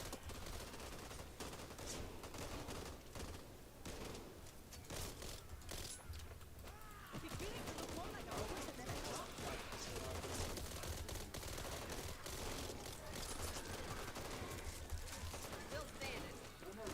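Continuous gunfire in the video game Back 4 Blood, dense rattling shots packed together throughout, moderately loud and steady, layered with game noise and a player talking.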